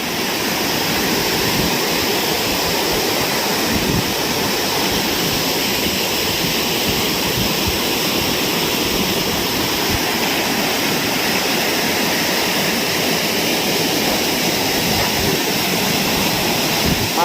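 Loud, steady rush of water roaring continuously without a break, a dense broadband torrent pouring through the gates of a large Narmada River irrigation canal.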